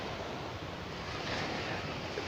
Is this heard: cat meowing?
no